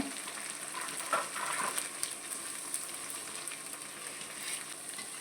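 Ginger garlic paste and vegetables such as beans fry in a hot pan for chicken fried rice, a steady soft sizzle with faint crackles and occasional stirring scrapes throughout.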